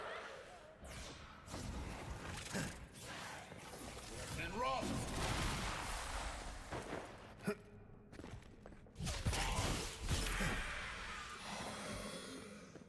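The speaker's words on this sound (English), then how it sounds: "Oh, wait. Explosions." Explosions burst in the fantasy video game Avowed, with loud broadband blasts and crackling debris in separate clusters over a busy game soundscape, and a voice is heard at times.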